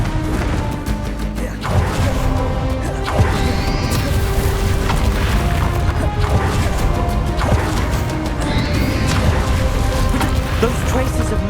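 The Confringo blasting spell in Hogwarts Legacy, cast in the final battle against Ranrok, bursts as a series of heavy crashing explosions with whooshing tails, repeating every few seconds over a constant loud din, with voices in places.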